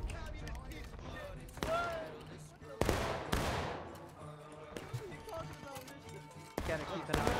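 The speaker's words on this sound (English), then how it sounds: "Shooting." Civil War video game battle with repeated bursts of musket gunfire, several loud volleys spaced across the scene amid constant battlefield din, with someone talking over it.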